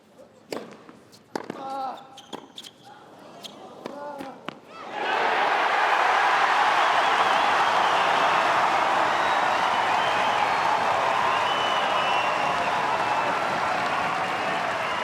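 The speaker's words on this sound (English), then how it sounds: "Crowd at fever pitch." A tennis crowd at the Australian Open erupts after a point in a deciding-set tiebreak, scattered claps and voices swelling into loud, sustained cheering and applause.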